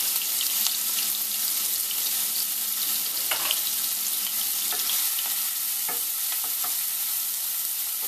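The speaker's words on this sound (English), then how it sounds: "I'm going to make sure my onions are all softened and browned" Finely chopped onions fry in a pan with a steady sizzle and occasional stirring clicks and scrapes, moderately close, with no voices.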